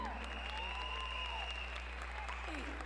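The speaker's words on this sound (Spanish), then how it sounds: "Fuerte el aplauso para Diana Sánchez." Audience applause for Diana Sánchez at the Mister Universo Venezuela 2023 final gala, steady and fairly faint over a constant low hum, with tonal voice-like sweeps riding on top.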